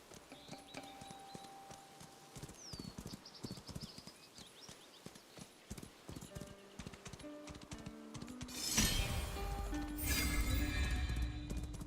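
Horse hooves clip-clop in the video game Where Winds Meet, a steady trotting rhythm up close, joined by game music and a louder swelling effect near the end.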